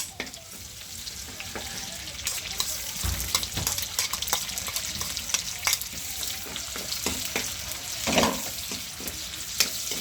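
Garlic and onion frying in a hot pan give a steady, close sizzle with occasional crackles and a few stirring scrapes, and no one speaks.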